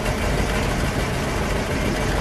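A 1960 Lincoln Continental Mark V convertible idles through its dual exhaust with two resonators and two mufflers, a steady, even, muffled rumble heard close with no talk over it.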